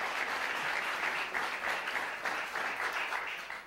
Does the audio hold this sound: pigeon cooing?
no